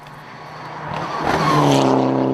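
A Mitsubishi rally car on a West Cork rally stage approaches and races past loudly, its engine note rising and sweeping downward as it goes by, with a hint of tire scrub.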